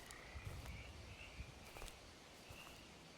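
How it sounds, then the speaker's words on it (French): Toads croak faintly in a night-time graveyard in the horror video game Tales Beyond The Tomb, scattered low croaks over a quiet hissy ambience. "On entend les crapauds"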